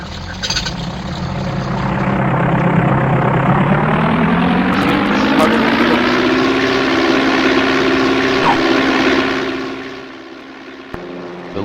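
Propeller fighter plane engine in a video game, a loud sustained drone that rises in pitch and holds steady before fading near the end, heard alone.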